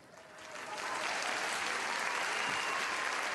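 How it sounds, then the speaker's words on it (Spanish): Studio audience applause on a comedy variety show, swelling from a soft start into a steady, dense clapping that holds loud and even to the end. "encima lo aplauden."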